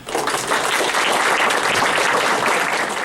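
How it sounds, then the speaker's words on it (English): Sustained applause from a crowd, steady and fairly loud throughout with no voices standing out. "Let's give a round of applause to Matthew."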